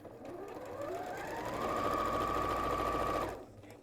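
A sewing machine stitches a cushion cover, winding up from a slow start to a steady, fast motor whine with rapid needle clatter, then cutting off near the end.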